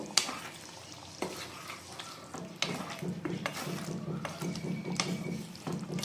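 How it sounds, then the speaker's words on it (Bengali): A spoon stirs ground garam masala into chicken cooking in a pan: close scraping and clinking against the pan over a steady sizzle, with soft irregular strokes throughout. "এবার গুঁড়া গরম মশলাটা একটু ভালো করে মিলিয়ে নেব।"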